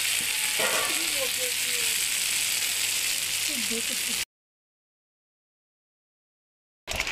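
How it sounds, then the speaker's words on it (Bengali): Chepa fish and spices sizzle in a pan while being stirred, with scraping movements and a voice speaking over the frying, then the sound cuts to silence before briefly returning. "মশলাটার লগে চেপা মাছটা পুরো ভালো করে মিলাই লিতে লাগবো"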